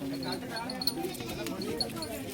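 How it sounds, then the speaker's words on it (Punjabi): Goats, including white Chinese-breed nannies, bleat at a livestock market in Puhalla, Bathinda, the calls faint and intermittent beneath people talking nearby. "ਇਹ ਪਿਓਰ ਚੀਨੀ ਬੱਕਰੀ ਹੈ ਜੀ"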